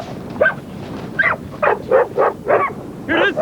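Hunting dogs after a wild pig give a series of sharp, excited barks and yips, about seven bursts in an uneven rhythm, close and fairly loud.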